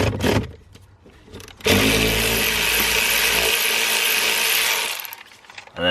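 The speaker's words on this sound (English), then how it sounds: "to disconnect the battery, all you want to do is release the 10mm bolt on the" A ratchet loosening the 10mm bolt on a BMW battery negative terminal, rapid close clicking in one sustained burst, preceded and followed by brief clicks, no talk.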